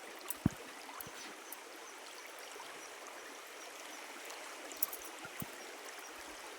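Water flows gently along a canal beside a cashew and mango orchard, a soft steady trickle with a few faint knocks and splashes, no voices.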